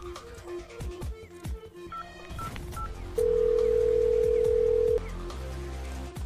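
A telephone sounds a steady tone for about two seconds, loud and close, following rapid dial tones and clattering handset noise, with faint background sounds before and after.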